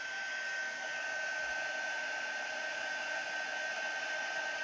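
A heat tool runs steadily for embossing, giving a loud, continuous electric whirr and rushing airflow like a hair dryer, with a thin high whine held throughout and no pauses.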